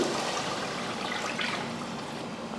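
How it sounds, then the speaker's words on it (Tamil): Water pouring into a pot of seeraga samba rice being readied for chicken biryani, a continuous close splashing and trickling flow that stays steady for a couple of seconds without any voice. "இப்போ இதில் தண்ணி சேர்த்துடலாம்"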